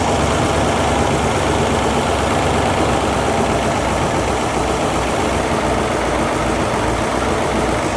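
A car engine idles steadily while its idle speed is turned down with the mixture screws, a loud continuous rumble with a broad, even roar and no pauses.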